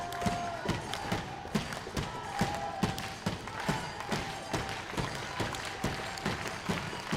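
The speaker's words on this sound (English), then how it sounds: "Crowd taking the opportunity to rally themselves, create some noise" An arena crowd rallying during a Nations Cup session, making noise with a steady rhythmic pulse of claps or stomps that repeats evenly throughout beneath a broad murmur.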